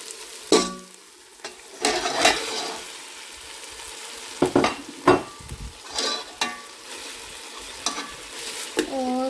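Chicken frying in masala for Pakistani-style biryani, a low sizzle broken by repeated scrapes and clanks of a spoon stirring against the pot, irregular and close.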